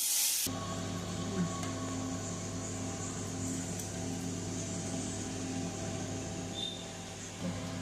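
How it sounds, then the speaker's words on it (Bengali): Fish frying in hot oil with cumin, dried chili and bay leaf for a fish curry, a steady soft hiss and sizzle that starts abruptly and continues evenly, fairly quiet and alone. "এবার আমি মাছটা ঢেলে দিচ্ছি।"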